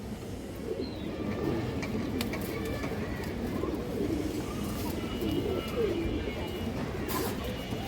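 Close, continuous low cooing from a male Giribaz sabzi pigeon rolls on in repeated throaty phrases, with someone talking quietly in the background and a few faint chirps from other birds.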